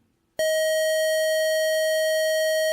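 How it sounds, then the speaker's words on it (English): A pure sine-wave test tone starts abruptly after a brief near-silent moment and then holds steady and unwavering, loud and alone. "sinusoid, a sine wave, instead of a triangle or a sawtooth"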